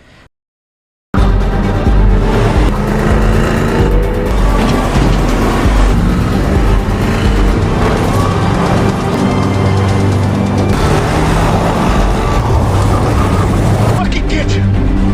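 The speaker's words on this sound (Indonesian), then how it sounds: "Ketika melihat mobil keluar, Jamie langsung mengejarnya" After a brief silent start, a car engine roars loudly and continuously as the vehicle pulls away in pursuit, with the revving motor dominating throughout.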